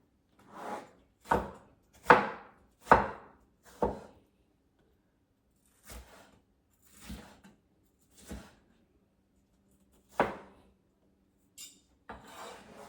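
A knife chops ingredients for tomato egg soup noodles in a series of sharp, close thuds on a board, five quick strokes at first and then sparser single chops with quiet gaps between them.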